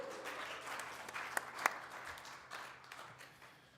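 An audience applauds at a live talk, a moderate crowd of hands clapping in a steady patter with a few sharper claps standing out, fading toward the end.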